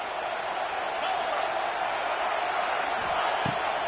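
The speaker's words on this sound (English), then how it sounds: "This crowd knows when to bring it." Crowd noise in a college football stadium: a steady, distant roar from the stands that holds evenly throughout, with no single burst of cheering standing out.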